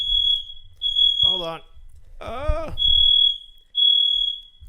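A building fire alarm sounds as loud, piercing high-pitched beeps in repeated long bursts, broken by short gaps while people speak between them.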